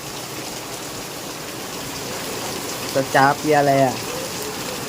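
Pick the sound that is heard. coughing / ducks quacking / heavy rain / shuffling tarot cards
heavy rain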